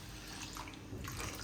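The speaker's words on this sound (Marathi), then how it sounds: "नाही तर तिकडचं पाणी टाकायचं" Water is poured onto poha to soak it, a short soft steady trickle heard close by and fairly quiet, with no voices.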